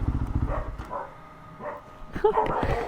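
A tiny, fluffy puppy in Laos lets out a few short yips and barks among voices and background rumble.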